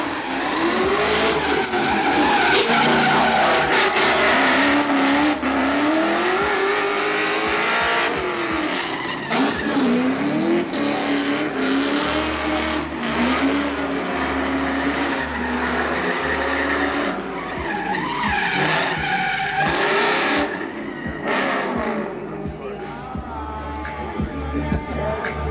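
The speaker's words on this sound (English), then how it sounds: "You got the Mustang RTR, driven by Justin Pollock, and then you got Vaughn Ginn Jr. Ford Mustang, purpose-built drift demo vehicle" Ford Mustang drift cars, including a purpose-built drift demo car, sliding at SEMA 2010, with loud sustained tire squeal and roaring engines running continuously, dense and close, plus a brief voice near the end.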